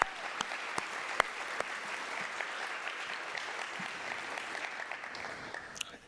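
A round of applause at a Centralia College kickoff gathering, moderate steady clapping with a few sharp louder claps, fading toward the end.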